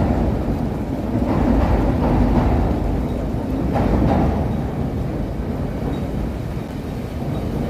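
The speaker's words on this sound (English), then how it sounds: "The Brown Line train heading north." Chicago Brown Line elevated train heading north across a river drawbridge, a steady low rumble and rattle of rail cars rolling past nearby, swelling twice and holding on without voices.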